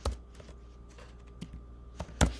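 Soft, sparse keystrokes on a computer keyboard come at irregular intervals during crossword solving, with a sharper tap near the end over a low electrical hum.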